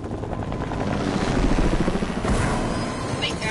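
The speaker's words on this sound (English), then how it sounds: "Helicopter, they're landing, and they're in front of us." Helicopter descending to land in the Fortnite video game, a loud, close rotor thrum that swells and holds steady over a few seconds with a game-world ambience beneath.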